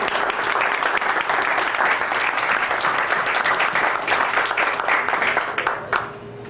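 Loud, sustained audience applause at a world music artist gathering and concert, many hands clapping in a dense, even roar close to the listener before it thins slightly near the end.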